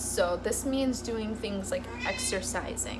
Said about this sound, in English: That's my cat. Diamond.